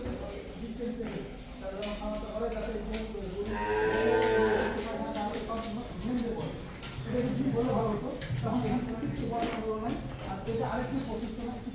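Native cattle on a model cattle farm at BLRI Savar, Dhaka, let out long, loud moos close by, with a person talking over the lowing.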